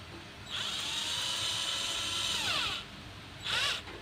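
A DeWalt 48V cordless impact drill whirs up to a steady high-pitched spin for about two seconds, winds down, then gives a second short burst, close and loud with no talking.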